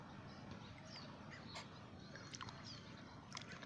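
A pet goose splashes in a puddle, giving soft, intermittent sloshes and light splashes against a steady outdoor hiss, with a few sharper splashes near the end.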